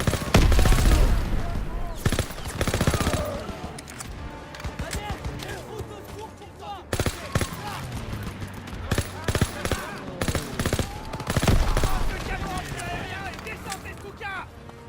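Bursts of rapid gunfire crackle and echo through a loud World War II video game battle scene, with shouted voices mixed in among the shots.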